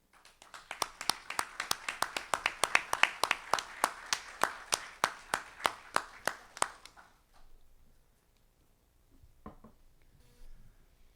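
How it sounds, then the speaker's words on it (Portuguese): Steady, evenly spaced claps from an audience at a literary lecture, about two dozen crisp beats in a near-unison rhythm that stop abruptly after about seven seconds, leaving faint room noise and a few soft stray sounds. "Palmas para você."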